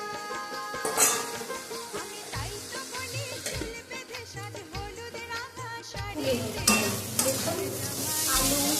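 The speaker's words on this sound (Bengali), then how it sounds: "পেঁপে মশলাগুলো ভাজা হয়ে গেছে" Papaya and spices frying in a pan for a thin fish curry, loud close sizzling mixed with repeated scraping and stirring of a spatula against the pan, no voices.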